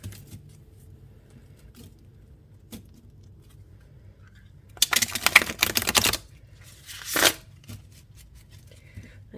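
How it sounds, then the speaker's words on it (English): A deck of tarot cards is shuffled by hand in two brief riffling bursts, a longer one followed by a short one, sharp and close over a quiet room with faint tapping before. "A couple more shuffles."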